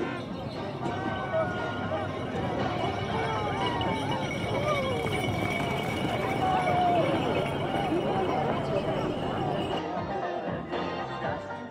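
Horses with riders at the rear of a parade near the Great Wall of China, steady clip-clop of many hooves on pavement amid crowd babble and a voice talking, continuous and fairly loud.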